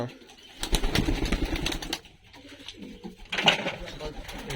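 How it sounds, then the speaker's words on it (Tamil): Pigeons coo in a loft shed, soft throaty calls repeating under a steady background hum, with a louder flurry of activity near the end. "இவ்வளோ புறா தான் இருக்குது இந்த செட்டில்"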